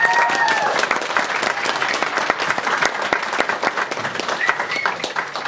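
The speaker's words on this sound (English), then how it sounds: "Could we have a round of applause for the bridesmaids," Wedding guests at a Stirling Court Hotel reception give the bridesmaids a round of applause, sustained crowd clapping with dense, even hand claps filling the room from start to finish.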